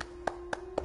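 Three sharp hand claps land at an even pace over a steady low hum, fairly faint and close.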